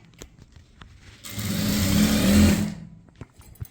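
A sewing machine stitches a blouse seam in a single short burst of about a second and a half that swells and fades. Light tapping and handling noises come before and after it.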